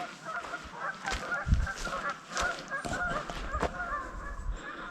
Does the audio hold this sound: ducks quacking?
yes